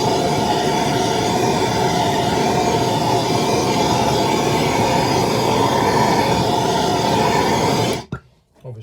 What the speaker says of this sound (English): Personally, I use a very quick blast of the blowtorch.